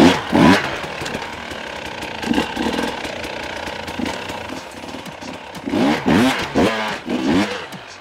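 Enduro motorcycle engine revving in repeated throttle bursts during an off-road riding maneuver, loud and close, with clutch-released surges and quieter idle gaps between them.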